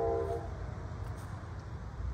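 A Norfolk Southern freight train approaches at a distance: a brief horn blast at the start, then a steady low rumble that carries through to the end.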